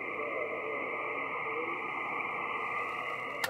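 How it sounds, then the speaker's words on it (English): A weak single-sideband signal comes through a Yaesu FT-991A amateur radio as a faint, muffled voice buried in steady band hiss and noise, ending with a brief click. "So let me let you hear the weak station."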